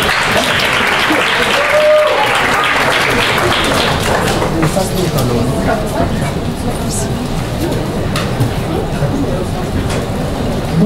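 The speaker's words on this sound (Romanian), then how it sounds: "Te rog, Vali, și vă rog un aplauze!" Audience applause welcoming a speaker at a talk, a loud, sustained wash of many hands clapping close by that continues without a break.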